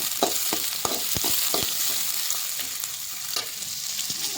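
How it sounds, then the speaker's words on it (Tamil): Onions sautéing in hot oil with popped mustard seeds, a steady close sizzle broken by sharp scraping and stirring clicks from a spatula in the pan. "ஆனியன் போட்டுக்கலாம். இப்போ இதை நல்லா வதக்கிக்கலாம்."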